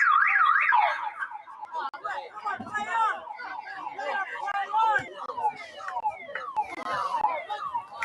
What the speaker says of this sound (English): And the siren sounds.